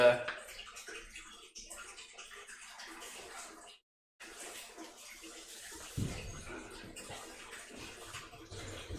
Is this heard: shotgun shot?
no